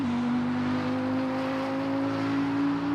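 A five-cylinder race car engine in the RaceRoom racing game holds a steady, droning tone under load, a continuous buzzy hum with no pauses and no talking.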